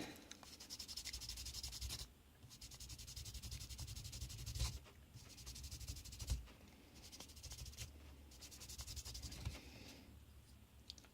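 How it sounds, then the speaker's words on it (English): Sandpaper rubs against a plastic model kit in steady back-and-forth strokes, a soft scratchy rasp broken by brief pauses, close to the mic with no speech. "now we're going to go through the exciting world of sandpaper again"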